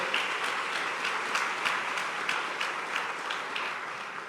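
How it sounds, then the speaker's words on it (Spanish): Church congregation gives a round of applause to the Lord, a full, continuous crowd clapping with faint rhythmic pulses running through it, steady from start to finish. "Give a great round of applause to the Lord"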